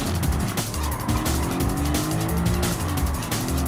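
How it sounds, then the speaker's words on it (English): Corvette engine in a racing video game, a loud revving roar with shifting pitch and squealing tires, continuous and close throughout. "There's a Corvette engine for you, I guess."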